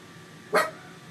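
Dog giving a single short, sharp bark at moderate distance, clear above a quiet indoor room tone, with no talk around it.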